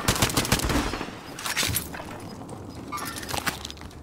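Rapid bursts of video game gunfire crackle in close succession during a multiplayer shooter match, loud at first and then trailing off into scattered shots.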